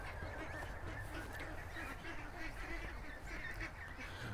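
A mixed flock of ducks and geese honks and quacks in faint, overlapping calls that carry on steadily throughout, somewhat distant and low in level.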